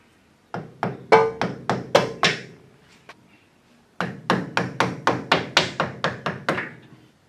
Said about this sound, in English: We'll just tap them out with a screwdriver and a mallet.